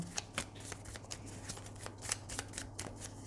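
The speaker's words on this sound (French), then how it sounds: "Ces cartes glissent, elles sont vraiment pas pratiques." Lenormand oracle cards being shuffled by hand, slippery cards giving a quick series of soft papery riffles and flicks close to the microphone, with no talking.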